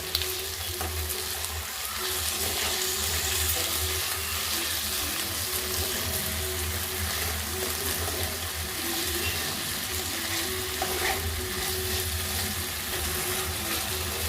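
Ivy gourd fry with salt is stirred in a pan, giving a steady close sizzle with soft scraping strokes throughout and no talking.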